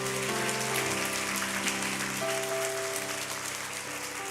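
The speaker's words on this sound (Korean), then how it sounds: "다시 한번 축복의 박수 주시겠습니다." A church congregation at a Sunday service claps in blessing, a dense, sustained patter of many hands at moderate distance with low organ or keyboard tones held underneath, no talking.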